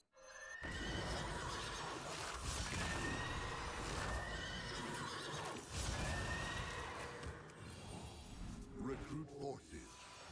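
Horse in a video game neighs loudly in a long whinny, with hoof clip-clop, whooshing game effects and a brief crash, all fairly close and continuous.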